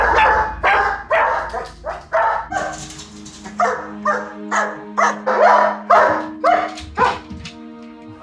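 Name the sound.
dog barking at home with separation anxiety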